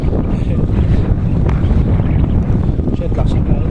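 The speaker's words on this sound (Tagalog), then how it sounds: "Shit, lakas ng hangin." Strong wind buffets the microphone during a motorcycle ride over the Marilaque Highway, a steady loud low roar through the whole stretch with a person's voice faintly mixed in.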